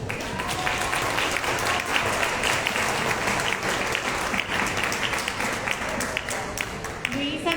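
Sustained applause from an audience at a book launch for a pottery museum book, dense steady clapping throughout with crowd murmur mixed in.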